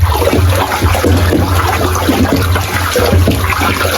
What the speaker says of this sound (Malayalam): ഒരേ സൈഡിലേക്ക് ഒരേ സ്പീഡിൽ കൃത്യമായ ഇളക്കാം